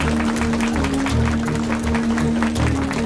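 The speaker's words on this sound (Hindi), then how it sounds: "ये तालियां किस लिए बजा रहे हैं?" Applause rings out in a Hindi-dubbed action film scene as a crowd claps steadily for about three seconds, moderately loud, with a low hum running underneath.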